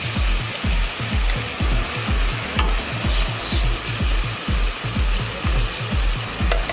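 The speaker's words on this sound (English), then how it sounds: "Let's stir all in so that all the spices can mix well" Spices being stirred into onions frying in a pan for an Indian dish: a loud, steady sizzle with rhythmic scraping strokes of the spoon repeating about twice a second, close and with no talk.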